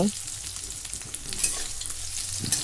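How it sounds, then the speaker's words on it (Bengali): Raw green mango pieces are stirred and lightly fried in a pan while making sour lentil dal, giving a steady close sizzle with spatula scrapes and small bumps throughout. "এখন আমটা একটু নেড়ে চেড়ে হালকা করে ভেজে নেব"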